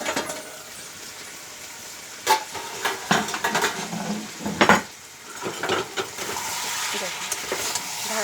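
Chicken kosha is stirred in a pot, with a spoon scraping and knocking against the metal at irregular intervals over a soft background sizzle and hiss. A voice talks faintly in between the clatters.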